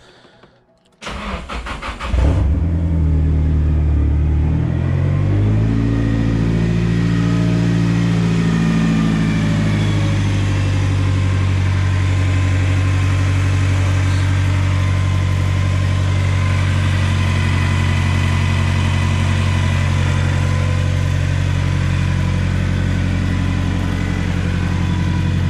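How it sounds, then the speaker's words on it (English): A car engine cranks and catches on its first startup after a rebuild, then settles into a loud, steady idle with a light rev, running alone close by for over twenty seconds. "this is the first startup,"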